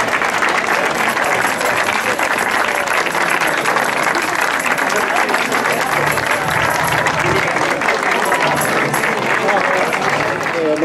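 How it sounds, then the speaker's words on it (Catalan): Sustained, dense applause from an audience at a gospel choir concert in a church, honoring a long-serving choir member's departure, steady and full throughout with faint crowd murmur underneath. "ara sí que demano un aplaudiment per en Jaume"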